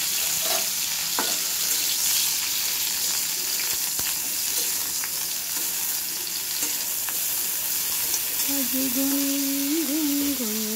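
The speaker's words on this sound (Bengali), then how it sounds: "ফুলকপিগুলো হালকা ফ্রাই করে নেব।" Cauliflower florets frying lightly in rice bran oil in a wok give a steady, dense sizzle throughout, and a voice hums a tune over it near the end.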